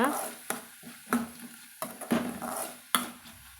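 A spoon stirs soft-cooked ash gourd curry in a pot, making several distinct scraping clinks against the metal spaced through a faint background hum, with a voice speaking quietly in between.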